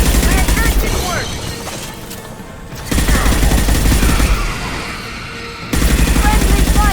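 Friendly gunfire in Mass Effect 2 aboard a Collector ship: dense, loud bursts of rapid shots that ease briefly and then return at full force, with a voice speaking over the battle.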